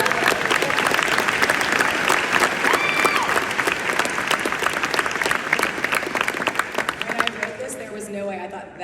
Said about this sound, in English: No way I thought that would get the largest clap.